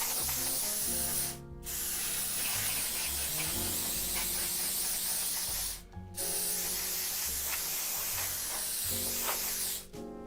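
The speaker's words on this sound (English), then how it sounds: "I'm going to hit it with this. This is just some specialist contact cleaner." Aerosol can of specialist contact cleaner sprayed onto an electronics board of a Sony PVM 1340 monitor, a steady close hiss running almost continuously, broken by two short pauses, with no talking.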